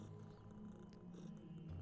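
A cat purrs in the video game Underrail. The purr is a low, soft, continuous rumble, faint beneath dense ambient game noise.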